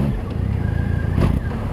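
A Triumph Rocket 3 motorcycle engine rumbles close by with a deep, throbbing low-end pulse and a brief rev swell near the end.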